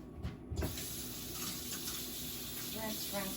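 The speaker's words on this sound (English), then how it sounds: "Let me rinse this." Tap water runs faintly into a sink while something is rinsed under it, a soft steady hiss with a brief splashy burst near the start.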